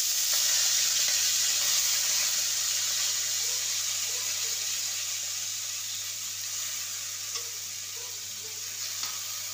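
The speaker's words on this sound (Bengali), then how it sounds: "ফোড়নটা ভাজা হয়ে গেছে, এবার ধুয়ে রাখা চালটা দেব।" Washed rice tipped into a pan of fried whole spices for nabaratna polao, giving a steady, loud sizzle that slowly fades over several seconds, with no voices.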